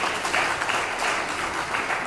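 An audience at a ceremony honouring Simon Kimbangu applauds in a steady, even wash of clapping with no other sound.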